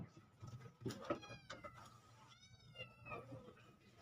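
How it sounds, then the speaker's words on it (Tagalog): Several cats meow in short overlapping calls close by, with a few higher bird-like chirps mixed in against a quiet room. "ba't nagiingaw kayo?"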